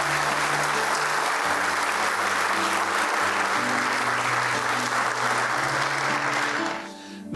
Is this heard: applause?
yes